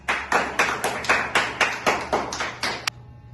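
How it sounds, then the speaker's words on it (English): About ten crisp, evenly spaced claps from a few hands at a literary-legends stage event, a sparse rhythmic clapping that stops abruptly after a few seconds. "So give applause for the master of emotion and beauty"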